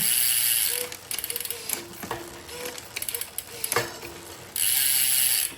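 A SRAM AXS electronic bicycle derailleur shifts gears with quick mechanical clicks and ratcheting chain-on-cog clatter, coming in short bursts over a steady close whir of a spinning drivetrain.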